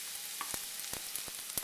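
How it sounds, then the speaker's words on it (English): Onions sizzle steadily in hot olive oil in a pan, a dense crackling hiss with scattered sharper pops and spits, up close and with no voices. "So it should start to sizzle up a little bit."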